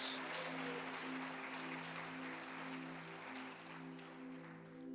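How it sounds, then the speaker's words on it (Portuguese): A church congregation claps steadily and continuously, with a sustained musical tone running underneath the applause. "Então aplauda Jesus."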